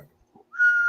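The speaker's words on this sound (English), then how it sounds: "That's all I got is I'm whistling." A single short whistled tone rises and holds steady for about half a second, clear and close, with no other sound around it.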